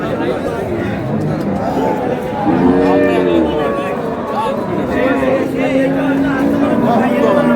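Cows and calves low repeatedly amid a busy crowd at an outdoor cattle market, deep moos rising over steady chatter and voices close by.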